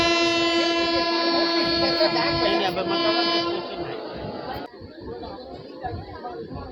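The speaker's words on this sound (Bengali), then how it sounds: "ওদিকে দাঁড়িয়ে রয়েছে পালভেন সুপারফাস্ট এক্সপ্রেস যেটা যাবে চেন্নাই একমোড়ে ও ওয়াপ সেভেনের ডাক রে" WAP-7 electric locomotive horn on the Pallavan Superfast Express at a station: a loud, sustained tonal horn blast lasting several seconds, then fading into station bustle and background chatter.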